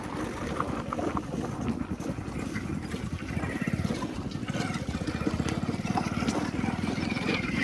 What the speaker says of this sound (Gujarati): આ છે જીસીબી ગાડી